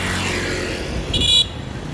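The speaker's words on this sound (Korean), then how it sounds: "오토바이 엄청 많습니다." Motorcycle traffic on a Da Nang city street hums steadily, engines passing nearby, and a brief horn toot sounds near the end.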